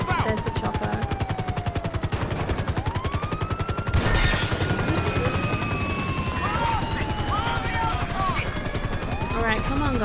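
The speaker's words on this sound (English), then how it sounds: "Oh, there's the chopper." A helicopter in Grand Theft Auto V thumps with rapid, loud, steady rotor beats throughout, with machine gun bursts and engine whine mixed in over the game action.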